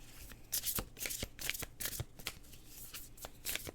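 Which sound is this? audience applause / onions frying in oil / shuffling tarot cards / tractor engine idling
shuffling tarot cards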